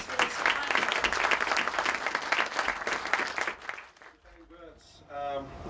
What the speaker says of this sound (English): please give Mr. Yunus a big round of applause that he deserves